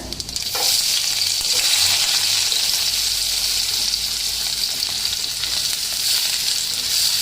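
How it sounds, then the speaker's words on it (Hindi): Cumin seeds and onion fry in hot oil over low heat, giving a loud, dense, steady sizzle that carries on almost unchanged from start to finish with no speech. "इसमें डाल देंगे ये थोड़ा सा ज़ीरा और इसमें डालेंगे हम प्याज"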